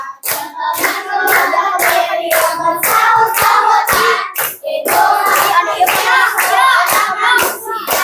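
A group of participants in an Indonesian teacher training session claps in a rhythmic pattern, with close, loud bursts of claps separated by brief pauses.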